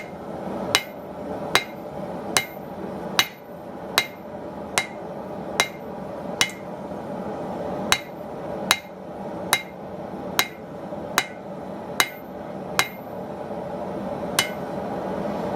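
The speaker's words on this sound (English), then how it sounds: "So what we're going to do next is we're going to start flattening out this blade." A blacksmith flattens a blade with a hammer in about sixteen sharp, ringing metallic strikes at a fairly steady pace, each blow clear and close, with no talking.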